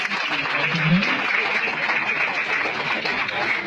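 A room full of people clapping steadily, with faint murmurs and a brief chuckle mixed into the applause.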